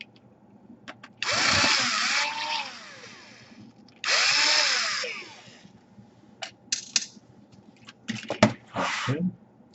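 Power screwdriver backing screws out of an HP 15 laptop, two close whining bursts with rising and falling pitch, then a run of short clicks and rattles of handling.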